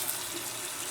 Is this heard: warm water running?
yes